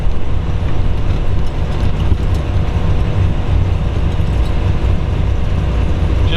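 A 1949 Chevrolet convertible, a mild custom, drives down a quiet neighborhood street, its engine giving a steady, close, low rumble that continues without a break and with no voices.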